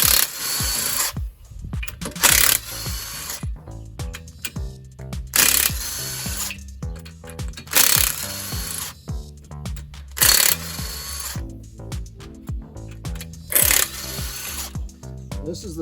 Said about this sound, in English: the head bolts, we're going to crack them loose in a spiral pattern